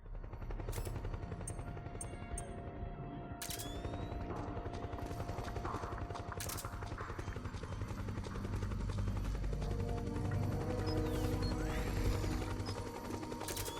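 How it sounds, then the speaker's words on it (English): Helicopter in the video game Metal Gear Solid 4: Guns of the Patriots thrums steadily throughout at moderate level, with sharp gunfire-like cracks and mechanical clatter breaking over the rotor drone. "Do I need to take out the helicopter here?"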